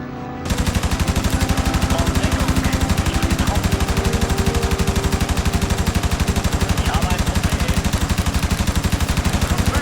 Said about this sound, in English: Once you depress the trigger, all your onboard weapons will begin to fire.